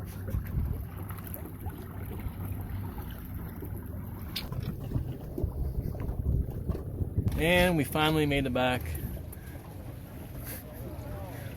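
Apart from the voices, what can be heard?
boat running on trolling motor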